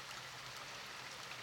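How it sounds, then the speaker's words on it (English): Steady rain falls outdoors during a countryside walk along the Fosse Way near Foxley and Brokenborough, an even, dense hiss with no breaks and no voices. "Rain might be stopping play."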